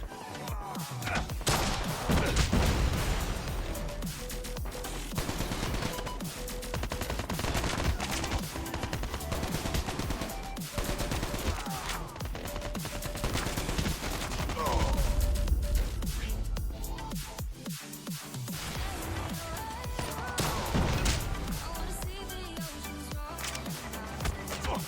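ASM10 rifle firing in a multiplayer shooter, dense bursts of automatic fire layered with explosions and game announcer voices throughout.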